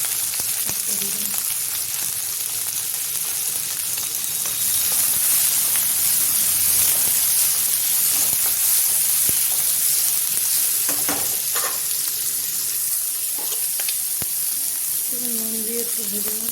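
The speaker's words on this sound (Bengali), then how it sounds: "নুন দিয়ে একটু ভেজে নেব।" Paneer frying with salt in a hot wok alongside ginger, green chilli, garlic, onion and tomato: a loud, continuous hissing sizzle with occasional stirring scrapes, close up and steady throughout.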